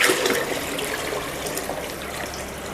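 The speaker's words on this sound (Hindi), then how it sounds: "ये 6 लीटर पानी और डाल दिया" Six litres of water gush and splash into a cumin-flavour drink mixture in a small factory machine, a steady, fairly loud pour that runs throughout.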